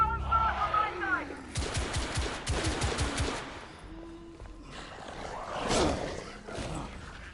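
Bursts of rapid gunfire from the video game The Order: 1886, loud volleys of shots followed by a quieter, rumbling stretch with a later swell of noise.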